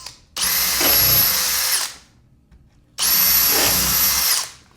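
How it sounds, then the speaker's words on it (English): A power drill bores pilot holes for screws in a wooden cabinet, two loud, close whirring bursts of about a second and a half each, separated by a short pause. "now we're gonna go ahead and drill our little pilot holes for our screws"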